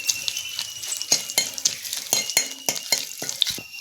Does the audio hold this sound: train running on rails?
no